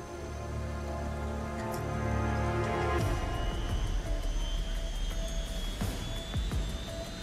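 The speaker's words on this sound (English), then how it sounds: "Oh, that's the sound of a drone." A drone hovers and flies in the stealth video game Metal Gear Solid Peace Walker, a steady droning hum with layered tones that thickens into a rougher, noisier whir partway through, with no talking.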